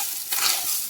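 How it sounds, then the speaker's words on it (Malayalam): Grated coconut fries in hot oil, giving a brief, steady sizzle with a soft stirring swell midway. "ഇതേ എണ്ണയിലാണ് നാളികേരം വറുത്തെടുക്കുന്നത്"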